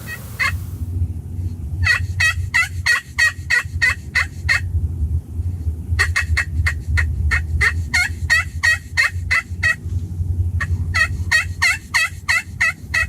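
Repeated bursts of wild turkey gobbling, several birds including a hen and young males calling in quick volleys with short pauses, over a steady low rumble of wind or distant noise.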